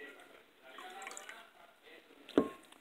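Water is poured into a cuprous chloride mixture in a lab vessel, with a faint trickle building to a single short splash near the end, quiet and close.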